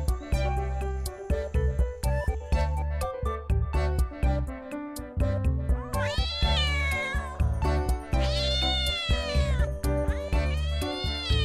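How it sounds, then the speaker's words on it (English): Cat meows repeated several times in a children's animal learning game, loud and close over a bouncy musical backing with rhythmic percussion, the drawn-out mewing cries rising and falling in pitch. "This is cat."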